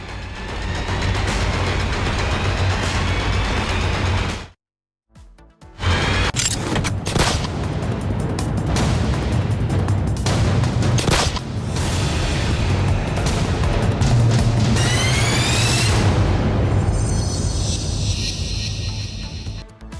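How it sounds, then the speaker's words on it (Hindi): Rapid gunfire aimed at Sukhbir Singh Badal rings out in news footage, with sharp loud cracks and bursts over a dense noisy background and a brief dropout partway through. "तो देखिए, ताबड़तोड़ फायरिंग और निशाने पर सुखबीर सिंह बादल"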